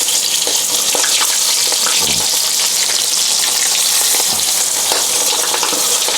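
Chicken frying in a big pan of hot grease gives a loud, steady sizzle with scattered pops and crackles, close up and without talk.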